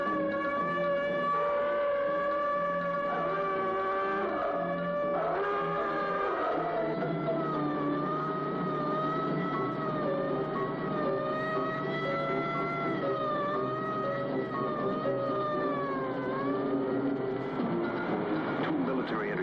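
A red alert siren wails continuously, a rising and falling electronic tone that stays loud and steady throughout with other mechanical tones beneath it, while a voice talks faintly underneath.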